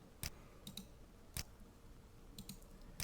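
Sharp mouse clicks in proposal-writing software, a few isolated taps spaced irregularly and close to the mic, with a quiet room in between.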